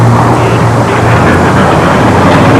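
Scale model airplanes with piston engines fly overhead at a fly-in, producing a loud, steady engine drone that holds throughout.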